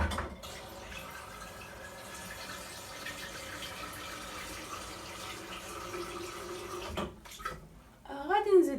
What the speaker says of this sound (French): وغادي نكب عليهم الماء. ندير الماء، خاصني الماء يفوت فوقهم